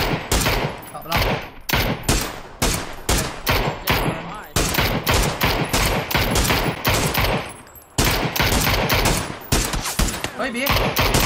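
Rapid bursts of automatic gunfire in PUBG ring out loud and near, with dense, repeated volleys and short pauses between them throughout, and voices occasionally under the shooting.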